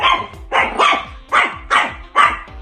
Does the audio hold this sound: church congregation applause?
no